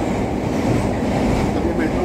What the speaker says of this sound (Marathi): आता मी मेट्रोमध्येच आहे.